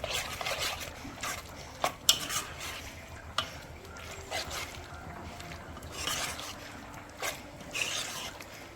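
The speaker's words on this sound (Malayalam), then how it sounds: "ഇനി നമ്മുടെ കൂന്തളെല്ലാം ഇതിനകത്തോട്ട് ഒന്ന് തട്ടിക്കൊടുക്കാം അതും നന്നായിട്ടൊന്ന് മിക്സ് ചെയ്യണം" Squid pieces being mixed into batter in a bowl, with wet scraping and clinking of a utensil against the bowl in irregular strokes, close and moderately loud, with no talking.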